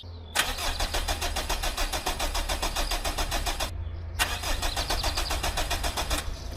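Renault Clio engine cranks over twice with a rapid, steady starter rhythm, about three seconds each, separated by a short pause, failing to catch after injector work; loud and close with a low hum underneath.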